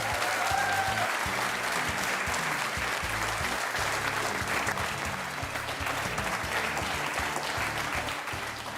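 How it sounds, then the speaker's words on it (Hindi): Studio audience applause on a televised courtroom-style talk show, a sustained, even roar of many hands clapping at moderate level, continuing unbroken from start to finish. "आपकी तालियां बजते रहें"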